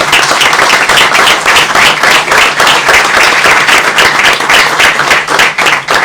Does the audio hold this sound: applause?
yes